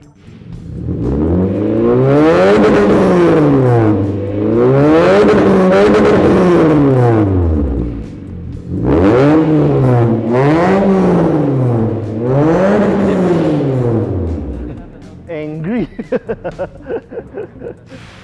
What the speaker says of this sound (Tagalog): So let's rev it up and see how she sounds